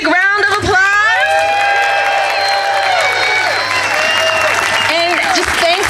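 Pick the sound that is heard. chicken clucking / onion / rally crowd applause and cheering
rally crowd applause and cheering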